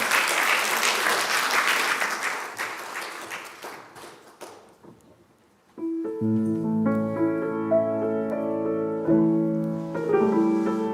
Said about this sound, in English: Give yourselves a hand for being here today.